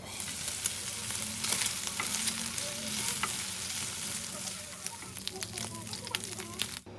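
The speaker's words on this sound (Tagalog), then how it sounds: "Tapos piprituhin natin to sa sarili niyang mantika." Pork belly (liempo) fries in its own rendered fat in a pan, giving a continuous close sizzle with scattered pops and crackles; a voice talks faintly underneath.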